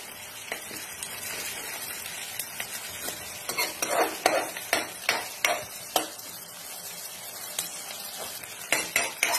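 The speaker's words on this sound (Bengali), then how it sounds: "একটু ব্রাউন ব্রাউন হয়ে এসছে, আর একটুখানি হোক ভাজি" Onions browning in a pan make a continuous close sizzle, broken by repeated scraping clinks of a spoon stirring against the metal in an irregular rhythm.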